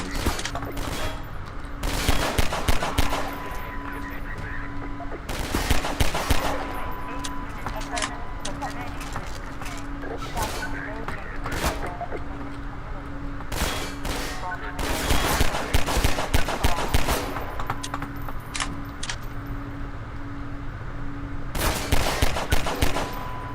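Gunfire in the Half-Life 2 Overcharged mod, repeated loud bursts of rapid shots traded back and forth in a firefight, with a voice talking intermittently underneath.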